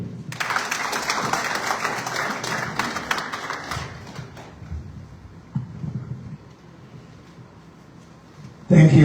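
An audience at a Zimbabwean embassy gathering in Namibia applauds after a speech: dense, steady clapping for about four seconds, then it thins to scattered claps and room murmur, ending in a sudden close thump.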